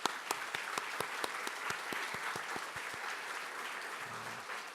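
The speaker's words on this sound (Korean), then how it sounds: "서로가 함께 격려하는 박수" A church congregation claps together at a New Year service, dense steady applause heard from a moderate distance and filling the whole stretch, with a few sharp louder claps standing out near the start.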